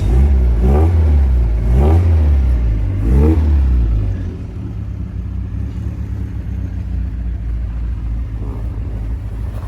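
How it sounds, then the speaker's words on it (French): A Triumph TR3A sports car engine revs in three loud bursts, then settles into a steady, rumbling idle close by. "On l'a remise en route."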